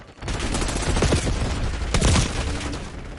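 Automatic gunfire in Call of Duty Black Ops 6 on PS5: a weapon held down firing a sustained rapid burst, loud and close, with denser surges of shots near the middle and again past the two-second mark.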